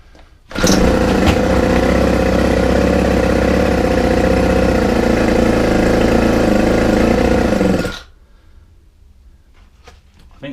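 A Ryobi 4-stroke string trimmer engine runs steady and loud at a constant buzzing speed for about seven seconds close by, then cuts out abruptly, leaving quiet background.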